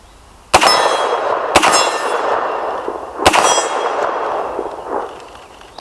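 Three sharp, loud metallic clangs from .50 BMG rifle rounds striking a steel target, each impact ringing out with a bright, lingering decay; the first two come about a second apart and the third after a longer gap.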